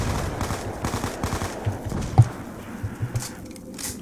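Rapid gunfire in a zombies shooter game, a fast stream of shots with one louder bang, running continuously at moderate loudness.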